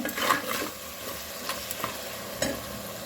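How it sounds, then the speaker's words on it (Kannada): Tempering sizzles and crackles in a hot pan close by, with a few spoon scrapes and stirring knocks over the steady frying hiss. "ನೋಡಿ ಒಗ್ಗರಣೆ ಎಷ್ಟು ಚೆಂದ ಆಯಿತು ನೋಡಿ"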